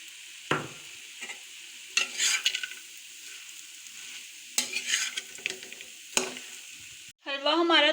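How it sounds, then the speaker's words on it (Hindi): Halwa with almonds and walnuts being stirred in a pan, soft scraping strokes recurring every second or two over a faint steady sizzle, ending with a brief burst of music. "अब हम इसे मज़ीद 5 मिनट तक पकाएंगे।"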